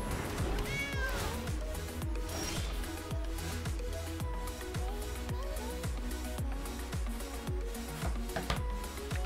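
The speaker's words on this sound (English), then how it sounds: "Is that a cat?" A cat meows over looping game music and sound effects during a Magic: The Gathering Arena match, the cries fairly clear but mixed into the busy background.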